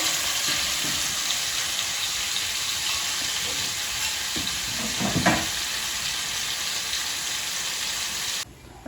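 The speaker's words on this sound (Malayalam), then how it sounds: "ചെമ്മീനെല്ലാം ഫ്രൈ ചെയ്തു." Prawns for biryani sizzle and crackle in hot oil in a pan, a steady close hiss with a few louder spatters and stirring sounds partway through, then a sudden drop near the end.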